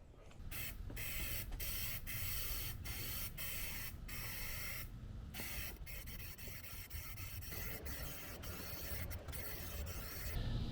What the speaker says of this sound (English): I managed to wreck 3 cans of galvanizing spray on this guy